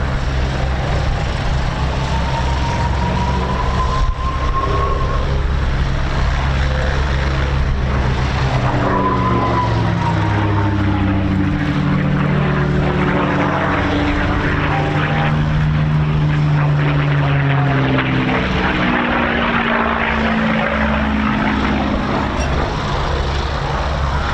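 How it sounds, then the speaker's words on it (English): A World War II P-51D Mustang with a Packard Merlin engine flies past at an air show, its loud propeller drone rising and falling in pitch as it sweeps by, continuous and powerful. "the later series Packard Merlins that powered aircraft such as the P51D really were the outstanding power plant for the Mustang airframe"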